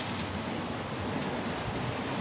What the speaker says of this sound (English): Yeah, but we're getting this choppy little waves